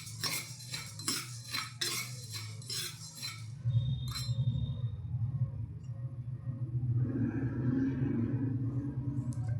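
Cumin and black pepper go into a pan to roast: a few sharp metal spoon clinks against the pan, then a steady low sizzling rumble of heat with no voices.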